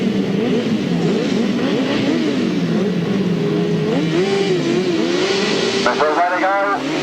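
Grasstrack racing motorcycles at a 1997 Brighton meeting rev loudly together at the start line, wavering engine notes rising and falling, with a commentator talking over the din.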